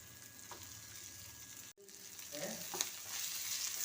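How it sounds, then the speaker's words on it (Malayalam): Dried anchovies fry in oil and are stirred in the pan, making a quiet, close sizzle with a brief dropout and a few soft scrapes of the spoon. "നമ്മൾ ഈ നെത്തോലി ഇവിടെ ഇതിൽ തന്നെ ഇട്ട് ഒന്ന് ഇളക്കി കുറച്ച് നേരം കൂടെ എണ്ണയിൽ ഇട്ടേക്കണം."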